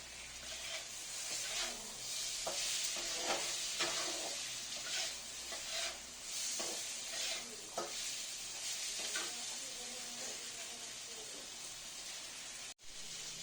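Spice paste for a village-style boal fish curry sizzles in a pan while being stirred, a continuous bright hiss with repeated scraping strokes of a spatula, close and steady, no speech.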